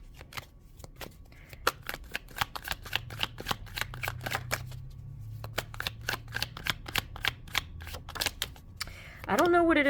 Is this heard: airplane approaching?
no